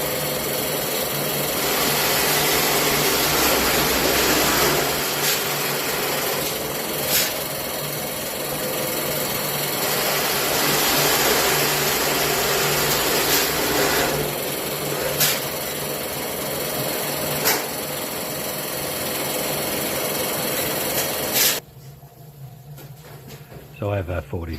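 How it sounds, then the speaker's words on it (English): A honey uncapping machine with oscillating heated blades runs steadily, a continuous mechanical hum and vibration with occasional clicks, then cuts off near the end. "The machine oscillating heated blades cut the caps off the uncapped frames"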